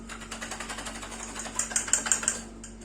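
A food processor gives a brief final whiz to cinnamon candied pecans, a sugar-free low-carb batch, making a fast, pulsing motor whirr with a steady hum, close and moderately loud, without speech.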